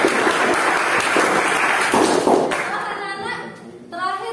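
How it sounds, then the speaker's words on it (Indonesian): Schoolchildren in a classroom clap together in a loud, dense burst for a classmate, lasting about two and a half seconds before a teacher's voice takes over. "Mari beri tepuk tangan buat Rizal."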